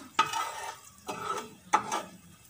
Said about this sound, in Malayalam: ഇതേ ഞാനൊരു അല്പം എണ്ണ ഒഴിച്ച് കൊടുത്തിട്ട് കായം ഒന്ന് പൊള്ളിച്ചെടുക്കുകയാണ്